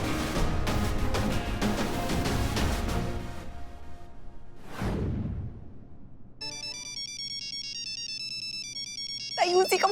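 After loud music and a whooshing sweep, an electronic phone ringtone plays a repeating bright melody, ending with a short burst of sound.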